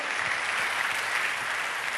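A small church cell-group congregation gives steady, even applause for two seconds, a continuous wash of clapping at moderate distance with no talk over it.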